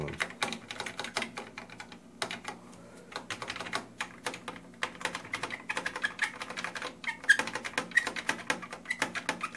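Hori Hayabusa arcade pushbuttons rattle off dozens of rapid, crisp clicks close to the mic. The pressing runs in dense bursts with brief pauses, and no one speaks.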